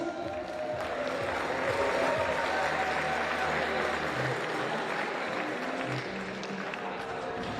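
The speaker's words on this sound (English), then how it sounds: "Round of applause for these two young lads." Spectators at an ice climbing competition finals in Sunderland, UK, give sustained applause for the junior podium, a soft, even wash of clapping and light crowd noise heard from some distance for over seven seconds.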